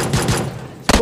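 Gunfire in PUBG Mobile: a loud, close burst of rapid automatic shots, a brief lull, then another sharp volley of shots at the end.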